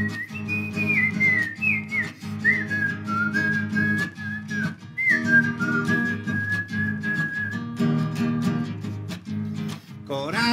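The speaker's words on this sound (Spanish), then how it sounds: "Con silbadita y todo" A person whistles a wavering melodic tune over a continuous musical backing at a carnival gathering, the whistle sitting clearly above the accompaniment for most of the stretch before fading out.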